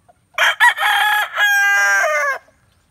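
A gamecock at a game farm crows once, loud and close, a broken start followed by a long drawn-out call that ends abruptly, with near silence before and after.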